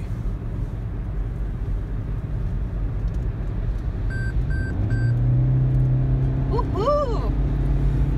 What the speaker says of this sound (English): once I get around this curve, I'll be able to step on the gas and get up to speed almost instantly